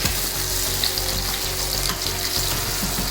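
Onions frying in a pan on a high flame for mutton kasha give off a loud, dense, continuous sizzle, close up and steady, with no voices.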